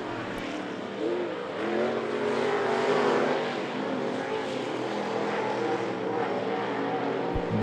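Race cars roar around the oval at I-75 Raceway in a steady, loud wash of engine noise, a broad blended drone from the field of cars rising slightly mid-pass, with no talk over it.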